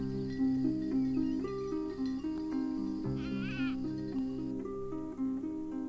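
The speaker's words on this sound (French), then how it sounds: "Pourquoi la petite Blanchette bêle plus tristement que les autres chèvres?" Goat bleating in a mountain pasture setting, a few wavering bleats heard over layered music that runs continuously beneath them.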